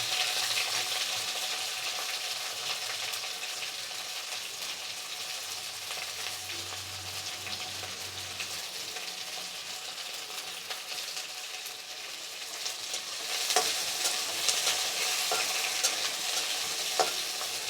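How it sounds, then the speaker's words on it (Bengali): Sliced onions fry with chopped ginger and slit green chilies in a pan, a continuous close sizzle with occasional stirring scrapes, growing a little louder and busier near the end. "একটু হালকা ভেজে পেঁয়াজগুলো এর মধ্যে দিয়ে দেব।"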